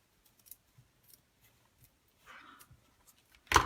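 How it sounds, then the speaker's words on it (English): Scissors trimming designer series paper for a box bag craft project, a few soft close snips and a brief cutting slide, ending on a sharper crisp snip. "I'm gonna just trim this and trim this piece as well"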